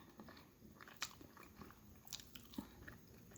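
Someone bites and chews pizza close up, with faint crunchy bites and soft mouth sounds at an irregular pace over a quiet background hum.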